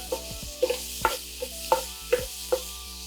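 Minced jarred garlic stirred in a hot pan, a series of light rhythmic scrapes and taps of a utensil over a faint sizzle, close and clear.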